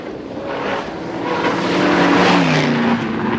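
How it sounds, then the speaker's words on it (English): An original Ford Falcon XT GT being driven near Canberra, its engine a steady loud roar that swells slightly midway, with a continuous low drone of passing motion and no voices. "the original GT was taken for a bit of a spin to blow out the cobwebs"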